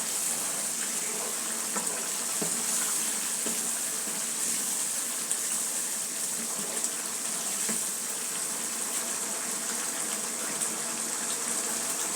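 Water poured into a pan of spice paste being fried for pasta, giving a steady, continuous rushing and bubbling wash that holds at an even level throughout with no talk.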